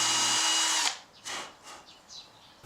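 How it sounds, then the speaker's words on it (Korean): A new cordless electric drill bores string holes through an ebony ukulele bridge, a loud steady high whine running for just under a second and then stopping, followed by a few faint scraping and tapping sounds. "최신형 충전식 전동 드릴로 구멍을 뚫어 보겠습니다"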